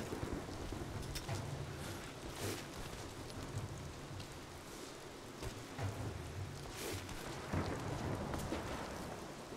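Rain and thunder in Rise of the Tomb Raider make a steady, dense hiss of rainfall with low rumbling swells underneath, constant and fairly faint, with no voices.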